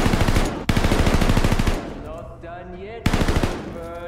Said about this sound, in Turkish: O kim sıkıyor?